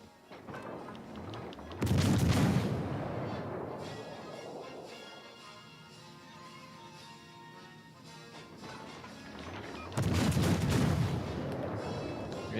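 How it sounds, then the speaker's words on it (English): Naval gun salvos from a warship in World of Warships: Legends, two heavy booming volleys about eight seconds apart, loud, with a low rumbling sea and engine ambience between them. "gunnery team's open fire"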